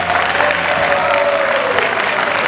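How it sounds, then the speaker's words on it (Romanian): Audience at a Romanian political party's candidate launch event applauds loudly and continuously, a dense steady wash of clapping with a faint sustained tone running beneath it. "dacă tot l-ați aplaudat atât de frenetic"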